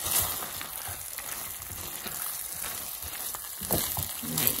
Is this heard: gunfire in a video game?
no